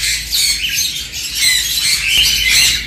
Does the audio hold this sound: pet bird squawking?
yes